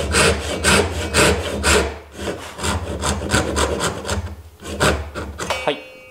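A Japanese hand saw cuts a wooden tenon for a joined stool, giving steady rhythmic rasping strokes up close and loud, with a brief pause midway before the strokes resume.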